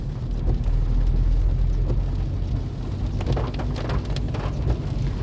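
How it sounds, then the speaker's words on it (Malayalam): Steady heavy rain patters densely with a low rumbling undertone, heard from inside a vehicle climbing a misty mountain pass road, continuous and fairly close, with no voices. "പുറത്ത് നല്ല മഴയുണ്ട് നല്ല കോടയുണ്ട്"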